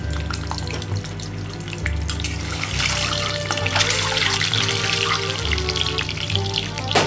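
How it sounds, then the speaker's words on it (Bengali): Eggs fry with turmeric powder in mustard oil, giving a loud, steady crackling sizzle with bubbling spits throughout, close and continuous. "হলুদের গুঁড়ো দিয়ে ভালোভাবে এটা ফ্রাই করে নিচ্ছি ডিমগুলো"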